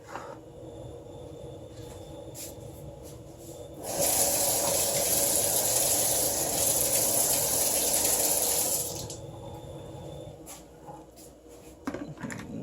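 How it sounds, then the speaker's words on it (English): Cold water runs from a tap into a DeLonghi plastic milk frother, a loud steady gushing flow lasting several seconds, with quieter room noise and faint clatter before and after. "So if we put some cold water in it, that will help."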